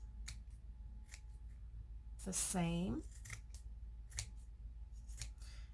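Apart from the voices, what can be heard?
scissors trimming lamp decoration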